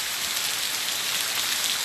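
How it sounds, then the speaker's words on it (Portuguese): Heavy rain pours steadily in Touros, a dense, continuous hiss of drops striking surfaces close by, unbroken and without voices. "Eita chuva maravilhosa aqui em Touros."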